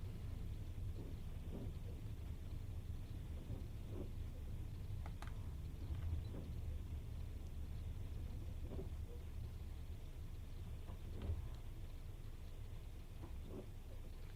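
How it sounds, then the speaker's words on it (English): Steady rain with low rumbling thunder in the Train Sim World 4 game, East Coast Mainline at a station, a dense continuous wash with faint distant rumbles and occasional soft knocks throughout. "just look how beautiful the station looks with all the rain"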